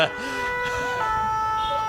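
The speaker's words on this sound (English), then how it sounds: "you're very welcome to wait for the siren to get through" An emergency siren passes outside, wailing in rising and falling sweeps at moderate loudness behind an indoor conversation, with traffic noise underneath.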